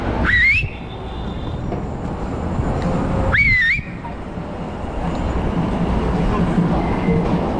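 A person whistles two short rising, warbling notes while walking down Broadway, each one clear and close over a constant bed of city traffic noise.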